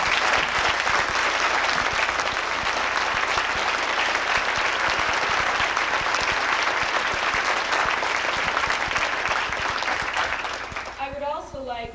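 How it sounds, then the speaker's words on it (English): A banquet audience at an awards dinner gives sustained, dense applause for a programme organiser, steady and full for most of the stretch before fading near the end as a voice begins speaking. "I would like to give a big round of applause for Charles Miller, who has put all the programming together."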